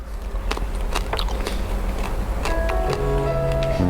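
Crunchy spit-roasted pork crackling from Balinese babi guling is bitten into, giving a series of sharp, close crackling snaps and ticks spread across the moment.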